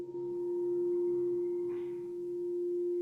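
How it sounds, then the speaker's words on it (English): Shasta crystal singing bowls ring out in a sustained, pure, steady tone with faint shimmering overtones, calm and unbroken throughout. "Relaxing into the tones of the Shasta crystal bowls"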